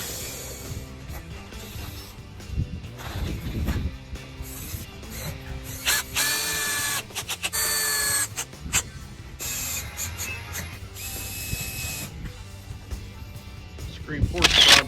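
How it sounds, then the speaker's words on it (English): A power drill drives screws to fix screen panels into a wood-frame screen porch, giving short whirring bursts and clicks with tool handling, while someone talks over much of the work. "screwing the screen panels in."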